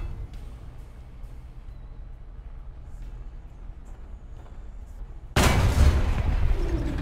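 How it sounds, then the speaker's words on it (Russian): A tank cannon fires in the War Thunder game, targeting a Super Pershing from an FV4005, bursting in suddenly and loudly near the end after a low, steady engine rumble. "Отличный выстрел по суперпершингу."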